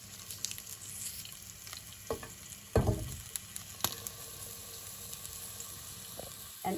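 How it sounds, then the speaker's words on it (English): A sliced onion roasts in hot oil for a chana dal vada chutney, giving a soft, steady sizzle broken by a few sharp utensil clicks and one louder scrape partway through. "So together we are going to do all the roasting here in this oil."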